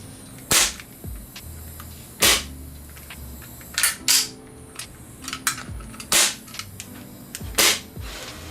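An ISSC M22 mini Glock airsoft gas blowback pistol fires about seven or eight sharp, close cracks at irregular intervals, each followed by a metallic clank of the slide cycling.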